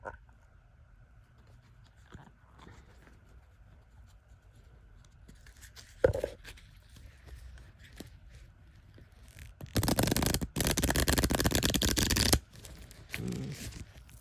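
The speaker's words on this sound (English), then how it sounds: "And I haven't shuffled them yet." A brand-new tarot card deck is shuffled up close, bursts of fast riffling card noise loud and alone after a quiet stretch of handling.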